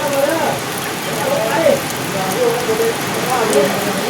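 Steady rain falls outdoors, a continuous dense hiss with no pauses, while a voice talks faintly underneath it.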